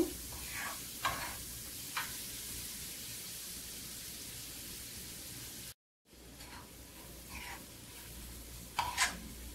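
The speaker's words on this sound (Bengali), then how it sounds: "এটা আমি নেড়ে ছেড়ে রান্না করে নেব।" Food stirred while it cooks in a pan, a soft continuous sizzle broken by scattered scraping strokes and light taps, with a brief dropout midway and a brighter clatter near the end.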